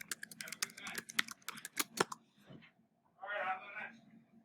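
Rapid clicking keystrokes on a computer keyboard as a search query is typed, a close, quiet burst of taps followed by a short pause and a softer flurry near the end.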